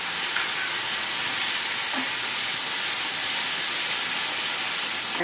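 A pan of frying cumin paste with bay leaf, just loosened with water, gives off a loud, continuous, close hissing sizzle that holds evenly throughout, with no talk.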